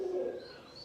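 A pigeon gives a short, soft low coo near a backyard hen brood, a single brief call fading quickly into quiet.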